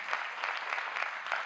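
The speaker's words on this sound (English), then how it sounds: "Huge round of applause, man, to Ricky." Audience applause at a conversation event, a brief burst of steady clapping from a crowd at moderate distance.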